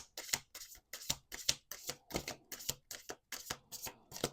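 Tarot cards being shuffled in quick repeated riffles, a steady series of crisp flapping bursts close by, with no talking.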